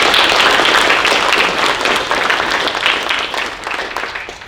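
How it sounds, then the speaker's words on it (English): Audience applause at a university venture competition finals, a loud burst of many hands clapping that gradually tapers off over a few seconds. "So round of applause for them."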